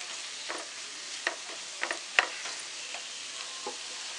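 Spices and chopped coriander being stirred into mutton kheema in a hot pan, giving a steady sizzle of frying with soft scraping of the spoon and a few light ticks against the vessel.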